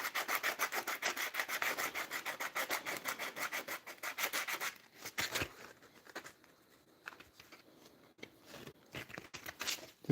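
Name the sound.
sanding turned wooden wand with 100 grit sandpaper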